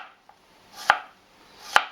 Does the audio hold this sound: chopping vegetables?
yes